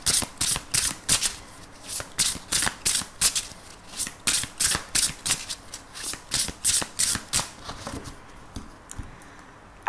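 Oracle cards riffle-shuffled in a quick, steady run of crisp bursts close to the mic, slowing and thinning out near the end, with no talking.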